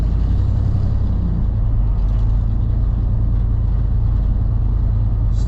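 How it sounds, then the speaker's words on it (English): A 1988 Ford F250 4x4 pickup's engine drones steadily while driving, a loud continuous low rumble with road and cabin noise and no talk, holding even throughout. "now the truck runs and drives on its own"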